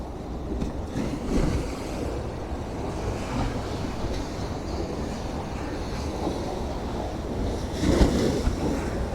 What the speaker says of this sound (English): Because I know a lot of people find looking at the sea and hearing it relaxing.